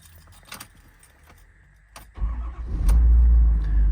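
Keys jangle in a few bright bursts. Then the diesel engine of a 2019 Ford F-550 4WD service-body truck with 191k miles cranks and catches, settling into a loud, steady idle close by.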